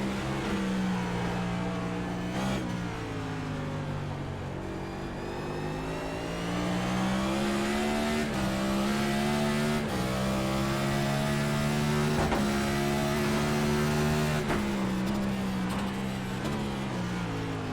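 A race car engine in the iRacing sim on the Chicago Street Course drones and revs in smooth rising and falling sweeps, shifting pitch between gears, a steady continuous roar with no talking.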